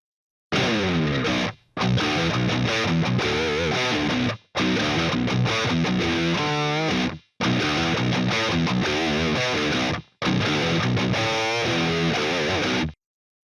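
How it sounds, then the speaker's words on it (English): Distorted electric guitar phrases played through a noise gate, five loud sustained bursts separated by abrupt near-silent gaps where the hum is cut, with faint residual noise lingering in the phrase tails. "let's play the guitar track again to see what it's done to get rid of the hum"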